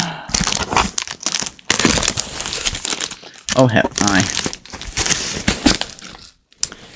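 Plastic mailer bags crinkle and crunch in bursts as mail parcels are opened and unpacked nearby. A person talks throughout.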